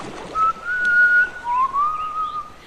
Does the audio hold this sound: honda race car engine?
no